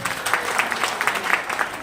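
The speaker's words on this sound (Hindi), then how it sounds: "एक बार तालियां हो जाएं।" Brief burst of audience applause at a training session in Satna, Madhya Pradesh, steady and fairly loud clapping from a roomful of people with no talk over it.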